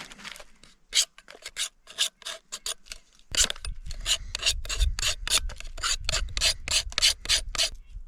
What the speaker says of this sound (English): We'll take some of the Fatwood we found earlier, and we'll scrape it up into a nice little pile.